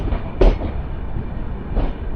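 A Konkan Railway train rolls into Surathkal station, its steady rumble of wheels and carriages filling the scene close by, with a couple of louder clanks punctuating the continuous rolling noise.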